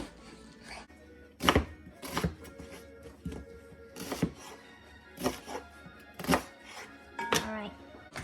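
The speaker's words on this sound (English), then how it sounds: "I'm gonna do a big chop on that." A knife chops a white onion on a board in a series of sharp, separate thunks at an uneven pace, fairly close, over a faint background hum.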